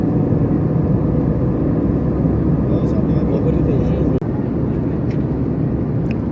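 Inside an airliner cabin before takeoff, a steady loud broadband rumble of engines and ventilation fills the space, with faint cabin noises on top.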